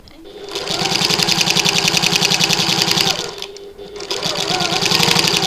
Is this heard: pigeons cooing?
no